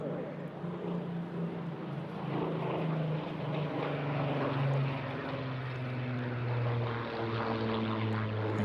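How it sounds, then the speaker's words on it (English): A Rolls-Royce Merlin-engined P-51D Mustang and a Mark 19 Spitfire fly past in formation at an airshow, a loud, sustained droning piston-engine roar with a steady low hum, heard from the ground. "What you're looking at there is P-51D Mustang and a Mark 19 Spitfire."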